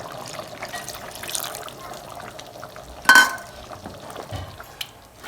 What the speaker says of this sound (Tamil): அதுக்காக தேங்காய் பால் ஆட் பண்ணிக்கிறோம்.